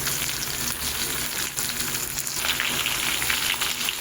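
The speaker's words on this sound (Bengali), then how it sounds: "সব একসাথে এবার একটু মিশিয়ে নিয়ে হালকা ভাজবো" Vegetables for pui chachra, seasoned with turmeric and salt, fry in a pan with a steady, close, crackling sizzle, broken by occasional stirring scrapes.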